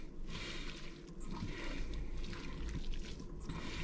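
Vegetable oil is stirred into a Swedish pizza salad, giving quiet, soft wet squishing and slopping with a gentle, uneven rhythm close by.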